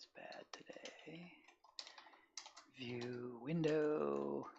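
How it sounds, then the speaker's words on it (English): Rapid typing on a computer keyboard while coding, with quick clustered key clicks alongside a man's speech that sits close and fairly loud. "typing is bad today."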